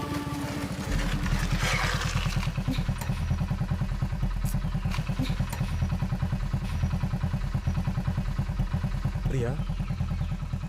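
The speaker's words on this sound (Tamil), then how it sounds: "ரோடு மட்டும் இல்லை பிரியா, பொதுவா 2 பேர் பைக்ல போகும்போது பின்னாடி இவ்வளோ கேப் விட்டு உட்காந்தா பேலன்ஸ் கிடைக்காது." A motorcycle carrying two riders runs steadily with a continuous mid-pitched engine putter and some clatter, close and loud throughout, with faint background sounds over it.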